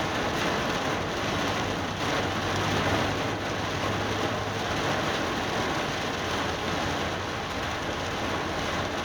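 Steady rain falling during a Florida storm, heard from a parked car as a dense, even hiss that stays constant throughout with no voices.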